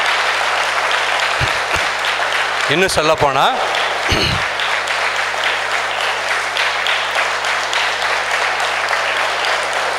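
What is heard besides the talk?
audience clapping enthusiastically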